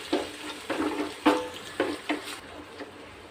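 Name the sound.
onions sautéing in ghee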